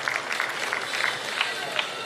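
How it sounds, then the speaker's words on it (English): Audience applause at a career guidance session of an aviation expo in Uganda, a steady dense patter of many hands clapping throughout, moderately loud and even, with scattered louder claps standing out. "Let's give him a round of applause"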